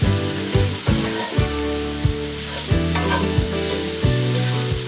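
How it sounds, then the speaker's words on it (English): A spiced pilaf with cabbage is stirred in a pot, with a sizzle and a regular scrape-and-clank of the spoon against the pot, close and fairly quiet. "Now go ahead and stir everything really well."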